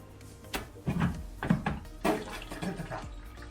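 Hand-siphoning water and algae off rocks from a saltwater aquarium: irregular wet gurgles, slurps and splashes in short bursts, close and fairly quiet.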